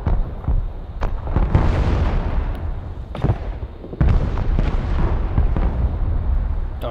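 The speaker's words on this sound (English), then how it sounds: "Artillery." Repeated artillery blasts in the war video game Broken Arrow, several heavy booms with sharp onsets and rumbling tails spaced irregularly, loud and close, with battle noise continuing between them.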